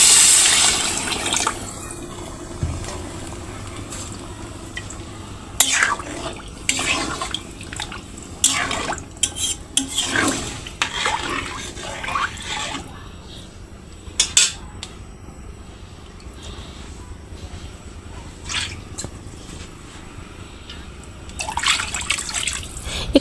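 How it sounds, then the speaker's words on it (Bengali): Pots and cutlery clink and clatter at intervals over running and dripping water while khichuri cooks for dinner in a village kitchen, with no voices present. "এখানে আমি রাতের জন্য ঝটপট খিচুড়ি রান্না করছি।"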